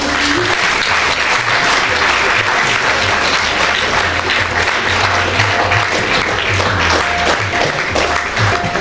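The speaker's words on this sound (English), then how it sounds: "Audience, kindly keep clapping, please." Award ceremony audience clapping continuously, a loud dense wash of applause from a large crowd filling the full stretch with no pause.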